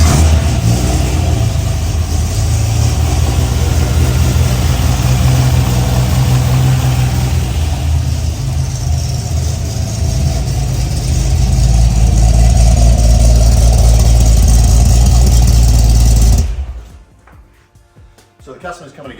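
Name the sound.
6 litre GTR Torana engine starting and revving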